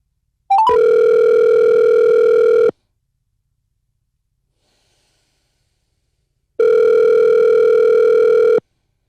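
Telephone call tone on a radio podcast: two long, steady buzzing tones, each about two seconds, separated by a few seconds of silence, loud and alone with no voices.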